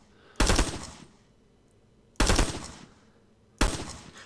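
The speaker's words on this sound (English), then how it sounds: "So far, I really do like the M16. Whether it's a 20 or 30 round magazine variant, I don't really care. I do really love the sound of this thing." Three separate loud, close single shots from an M16 rifle in the Vietnam War shooter game Rising Storm 2: Vietnam, each a sharp crack followed by a decaying tail, spaced well over a second apart.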